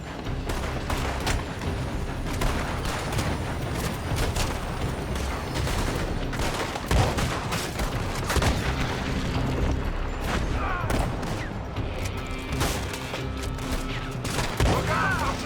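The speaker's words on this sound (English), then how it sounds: "They're shooting from that building." Enemy gunfire in a Red Dead Redemption 2 shootout, dense volleys of overlapping shots and booms rattling without pause, loud and close, with brief voices now and then.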